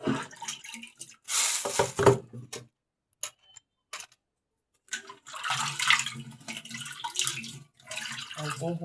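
Chopped ingredients are rinsed under running water, heard as close, uneven bursts of splashing flow separated by brief quiet gaps.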